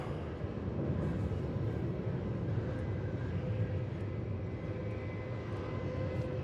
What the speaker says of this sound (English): So there's Jetstar, which just landed